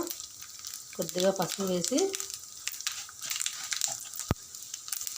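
Dry red chillies and curry leaves fry in hot tempering oil with a little turmeric, giving a soft, crackling sizzle that carries on beneath a woman's speech.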